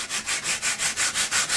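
A wooden rudder for a model Stampe SV4 is sanded by hand in about eight quick, even strokes, a steady rasping scrub that is close and fairly loud with no talk.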